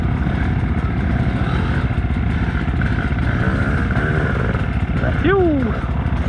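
A big group of enduro motorcycles, including a Beta 200RR, rides together with a steady, rough two-stroke engine drone close by, one bike briefly revving and then easing off near the end.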